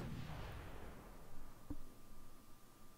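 Artillery fire in Fallout 4 sounds as a faint, distant low boom with a brief thud, rumbling under a hissy, windy background.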